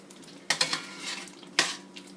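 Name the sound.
sofrito popping in the pot as ham is added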